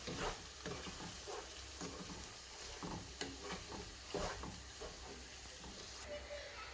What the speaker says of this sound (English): Now I'm going to mix it.